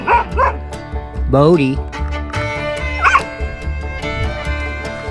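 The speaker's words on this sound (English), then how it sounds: "What are you barking at" A dog barks close by, several sharp barks and yips mixed with a whimpering note, while a person talks and greets the animals over the commotion.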